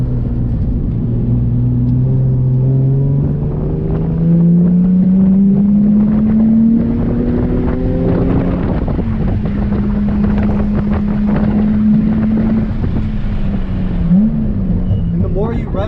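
A sports car engine at Thunder Hill race track revs steadily higher in pitch, drops back, then holds a lower drone, with wind buffeting the microphone throughout.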